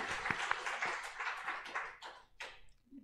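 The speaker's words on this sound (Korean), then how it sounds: "우리 하나님께 찬양과 영광의 박수를 올려드립니다." Scattered, uneven hand clapping from a church congregation during a Sunday worship service, moderately loud and fading out toward the end without any voices.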